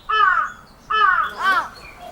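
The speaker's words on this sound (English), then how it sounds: "A crow eats insects." A crow caws three times in quick succession, harsh and close, with a short pause after the first two calls and nothing else around them.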